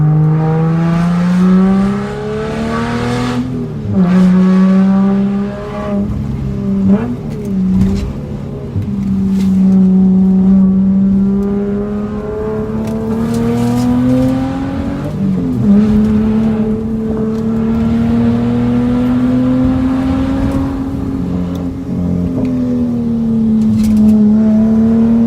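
A Subaru Liberty H6 sedan's six-cylinder engine pulls hard from inside the car during a drive. The loud, steady growl rises and falls in pitch as it accelerates through the gears.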